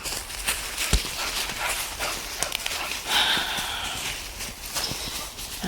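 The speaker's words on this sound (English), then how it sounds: "She is a woods dog." A woods dog moving around outdoors near a house, with scattered footfalls and pawing sounds across a few seconds at moderate distance, amid rustling and background noise.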